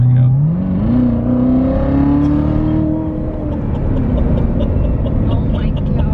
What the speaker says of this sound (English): Let us hear that supercharger one more time.